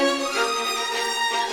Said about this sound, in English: And then maybe some violins that respond to that.